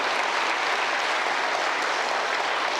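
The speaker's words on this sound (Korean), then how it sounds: "박수 치지 마." A church congregation applauds at an anniversary revival service, a dense, steady wash of clapping held at full strength throughout with no pause or voices on top.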